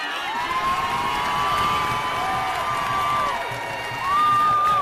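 A large crowd cheering and shouting continuously at a distance, a sustained roar with high voices and whoops rising and falling, swelling louder toward the end.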